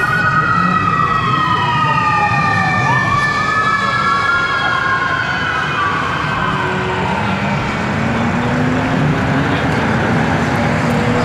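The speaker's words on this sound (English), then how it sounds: "Crazy ambulance." An ambulance siren wails past near a large Supra car meet, loud and close, its sweeping tones sliding down in pitch as the vehicle goes by over constant background noise.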